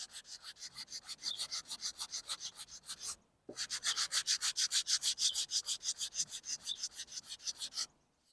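Hand sanding with Norton 220 grit sandpaper on hardened black gap-filling super glue: steady, close, rhythmic back-and-forth rasping strokes, one brief pause partway through, no talking.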